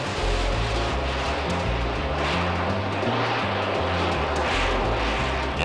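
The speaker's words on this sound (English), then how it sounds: "8 solid fuel rockets burn for about 14 seconds, producing the additional power of a 5th engine." A C-130 making a jet-assisted takeoff from a short runway, eight solid fuel rockets burning alongside its engines, gives a loud, continuous, rumbling roar that holds steady and close with no letup.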